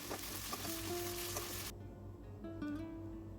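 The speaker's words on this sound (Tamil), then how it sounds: "இப்போ வெங்காயம், தக்காளி, இஞ்சி, பூண்டு விழுது எல்லாம் சேர்த்து நல்லா வதக்கி விட்டுக்கிறேங்க" Onion, tomato and ginger-garlic paste sauté in a pan for Kumbakonam kadappa, giving a soft, steady sizzle that drops away abruptly midway, leaving faint tones.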